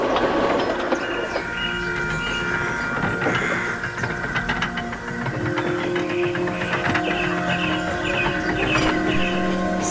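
A steam engine train runs steadily with continuous rumbling and clattering, rhythmic mechanical chuffing carrying over faint background music with no voices.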